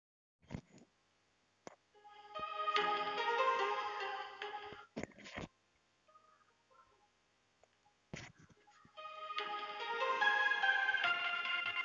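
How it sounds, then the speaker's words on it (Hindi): Song played from a mobile phone and sent through a landline telephone handset over a jack connection, heard as thin, tinny music in sections separated by clicks and short gaps. "मैं इस पर एक सॉन्ग को प्ले कर देता हूँ।"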